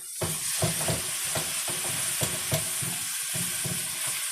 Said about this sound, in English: just stir it up in here